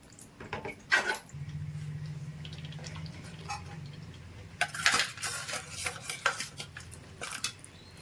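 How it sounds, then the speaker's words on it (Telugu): Mutton pieces for biryani dropping into a metal pot with clattering thuds and scrapes, followed by lighter clinks of utensils and some wet stirring close by. "మటన్ వేసేస్తున్నామండి"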